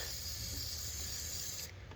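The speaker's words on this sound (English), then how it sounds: "this spray that we're going to spray on there. It's just to help prevent corrosion" A steady, close hiss of anti-corrosion aerosol spray on a car battery terminal, running for nearly two seconds, then cutting off with a faint click.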